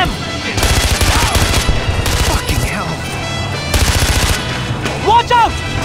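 Bursts of automatic gunfire from a Far Cry 4 firefight crackle in several loud rapid volleys, with game effects and a short pause between them; a voice is heard beneath the shots.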